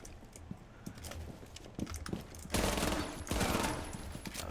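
SMG-11 submachine gun fire in a shooter video game, quick rattling bursts that grow into a sustained rapid volley, fairly faint, with no talk over it.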